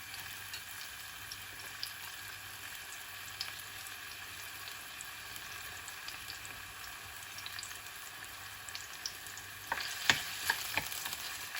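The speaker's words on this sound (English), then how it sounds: "I'm going to add my sliced onion into my oil because my oil is hot" Sliced onion frying in hot oil, a low steady sizzle that turns into sharper crackling and stirring clatter near the end.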